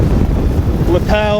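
Roaring 80 mph hurricane wind, with snow, batters an outdoor microphone in a loud continuous low rumble, and a person speaks briefly over it.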